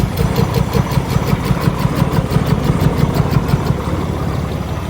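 A 2020 Ram 3500 with a 6.7 Cummins diesel at 364k miles and a bad lifter idles after a cold start, its low clattering rumble ticking in a fast, regular beat, loud and close, with no voices.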